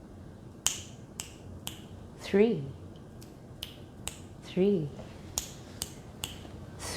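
Sharp finger snaps ring out alone at a steady pace, about eleven crisp clicks spread over several seconds, close and clear, with a short spoken bit between some of them.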